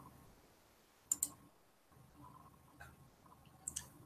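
Computer mouse clicks selecting a menu item, heard as two quick double clicks, one near the start and one near the end, crisp and close against a quiet room hush.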